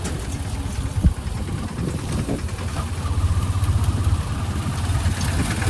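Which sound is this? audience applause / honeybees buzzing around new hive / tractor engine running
tractor engine running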